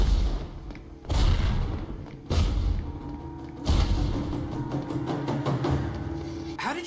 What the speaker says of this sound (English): How did you rig those explosions to go off like that?